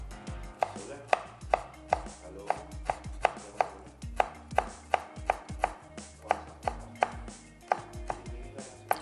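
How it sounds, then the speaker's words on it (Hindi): A knife chops an orange finely on a cutting board in steady, rapid, evenly spaced strikes, about two per second, close and crisp with no talking. "चलिए इसको बारीक चॉप कर लेते हैं"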